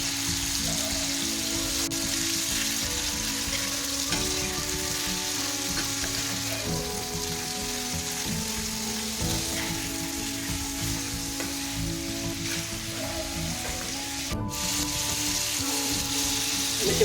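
Pieces of chicken liver fry on a tawa with a loud, continuous crackling sizzle, occasional stirring clinks, no voices.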